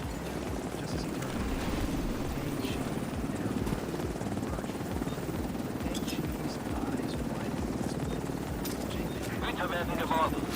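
Helicopter arriving in the video game Tom Clancy's The Division 2, a steady loud rotor chop and engine drone running the whole time, with in-game voices and effects heard over it.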